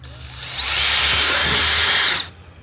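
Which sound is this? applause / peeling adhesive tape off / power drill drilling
power drill drilling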